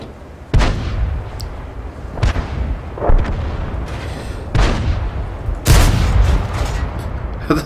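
Tank cannon shells fire in a tank video game: about five loud, booming shots at irregular intervals, each a sharp blast with a rumbling tail, over a constant low battle drone and no talk.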